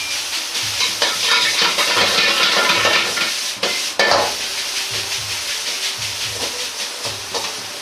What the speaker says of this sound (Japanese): お玉を使いご飯を軽く叩くようにして広げ炒めていきます。